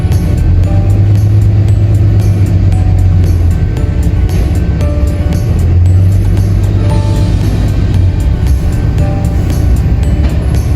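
A pickup truck towing a 6x12 cargo trailer camper boards a ferry near Victoria, British Columbia, with a steady loud engine rumble and deep drones from the vessel and nearby traffic, and no talk.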